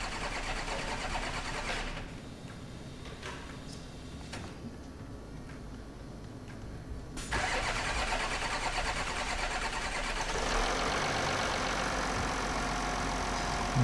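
An Audi Q7 3.0L TDI diesel, with its fuel lines emptied during an oil cooler replacement, cranks for several seconds with uneven pulses. It then catches and settles into a louder, steady, close idle, with no talking.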